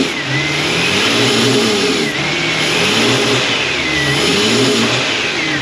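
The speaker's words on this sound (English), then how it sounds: "What happens if I use a screwdriver to move the throttle?" A car engine with a faulty mass airflow reading revs up and down as the throttle body is worked by hand with a screwdriver, a loud, close, continuous mid-pitched roar that rises and falls in repeated surges.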